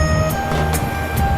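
A train pulling out of a station rumbles low and steadily, with a few faint clicks of the wheels and a sustained tonal hum from the carriage, heard from on board.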